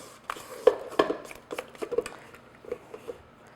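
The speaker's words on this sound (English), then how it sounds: "A good stir." A spoon stirs pumpkin spice cake batter in a bowl, giving a string of close, uneven scrapes and soft knocks against the bowl, about a dozen strokes with no talking.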